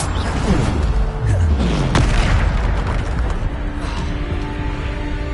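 A Bombarda blasting spell explodes in the video game Hogwarts Legacy: loud, close booming blasts that come in rapid succession, with falling swooshing tones and a dense rumble filling the whole stretch, no pause or quiet between hits.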